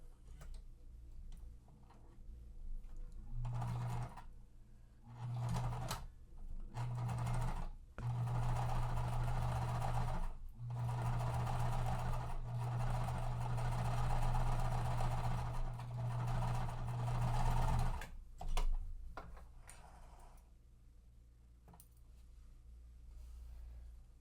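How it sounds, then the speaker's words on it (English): Sewing machine stitching quilt block pieces together, running in a series of bursts with a steady rhythmic whirring hum and ticking, starting and stopping several times, close and alone. "They should line up evenly and sew them into place."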